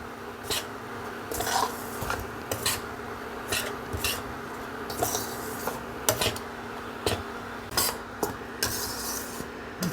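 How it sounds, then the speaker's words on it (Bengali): Ghee and wheat flour roasting in a pan give a quiet, continuous scraping and rasping as a spatula works the mixture, with faint clinks against the pan and no voices. "এবার ঘি আর আটা আমি ভাজবো"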